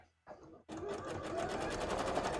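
A home sewing machine stitches a cosplay costume hood, starting with a short burst, pausing, then running steadily and close at a fast, even rhythm.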